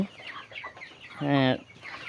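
Chickens cluck close by on a poultry farm, with a run of quick soft clucks followed by one longer, louder drawn-out call from a 28-day-old bird.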